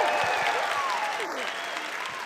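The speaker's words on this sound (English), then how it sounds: "let's do a huge round of applause for Lewis Howes." An audience applauds steadily and loudly for Lewis Howes at a live talk event. The clapping is dense and unbroken from start to finish.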